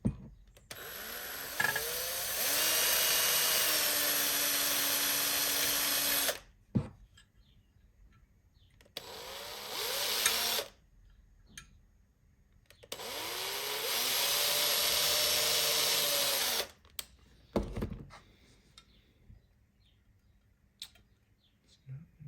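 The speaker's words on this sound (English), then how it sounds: "Just going to use one of my little 1mm drills." A small 1mm drill bit whirs in three separate bursts of several seconds each, the motor spinning up and holding a steady whine, with clicks and quiet handling between runs.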